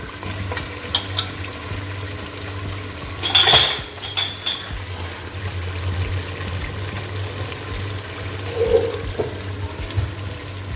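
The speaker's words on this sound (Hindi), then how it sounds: "ऑयल आ चुका ऊपर, इसमें मैं थोड़ा सा पानी शामिल करूँगी" Water poured into a pan of cooking mutton paya with oil risen to the surface, giving a bubbling, sizzling rush over steady frying, with a brief clink of utensils and no talk.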